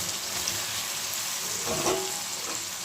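Vegetables tumble into hot oil and masala for a winter kohlrabi and potato curry, giving a steady close sizzle of frying with a brief louder crackle as they land.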